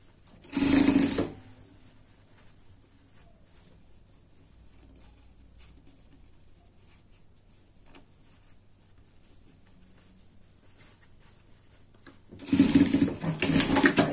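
Sewing machine stitching a seam on a dress, a steady continuous whirr running through the middle, with short bursts of speech at the start and end.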